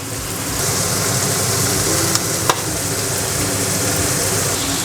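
Chicken liver sizzles steadily in a hot pan, a loud continuous frying hiss with a couple of sharp pops near the middle.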